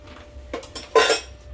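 A spoon knocks and scrapes against a bowl while cutlet ingredients with chaat masala, salt and turmeric are mashed and mixed, a few brief clinks with one louder strike near the middle.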